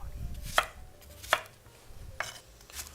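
A knife chops four times on a cutting board, sharp evenly spaced knocks in a quiet kitchen.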